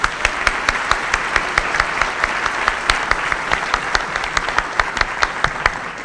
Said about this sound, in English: We can just take a round of applause and welcome them as well.